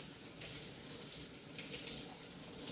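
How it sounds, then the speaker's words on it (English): Hands being washed under a running kitchen tap: a faint, steady hiss of flowing water with slight splashing, continuous and even throughout, with no voices. "I'm just going to wash my hands quick."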